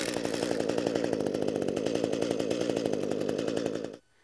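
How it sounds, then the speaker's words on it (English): An Echo gas hedge trimmer running after a recoil pull start, its small two-stroke engine buzzing loud and close with a fast, even pulsing rhythm for about four seconds before cutting off abruptly. "So I simply have to pull the recoil 1 to 2 times and the unit will fire."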